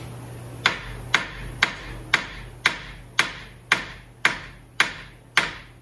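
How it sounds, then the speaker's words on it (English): A hammer hits a rusted control arm ten times in steady succession, each blow a sharp, loud metallic strike about half a second apart that rings briefly and fades before the next. "So we're gonna work this a little bit with the hammer and the air chisel."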